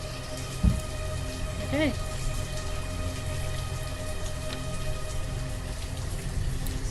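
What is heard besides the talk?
rain in the video game Banished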